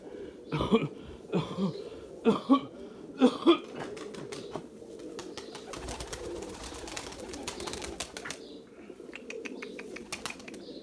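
Erzurum white pigeons coo in a few low throaty bursts, followed by a steady soft rustling and flutter of birds nearby.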